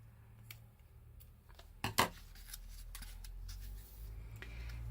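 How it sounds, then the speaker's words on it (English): Scissors cut through journal paper and pocket material for a handmade craft journal, a few soft snips with two sharper crunching cuts near the middle against a quiet room hum. "So we want to cut it off about here."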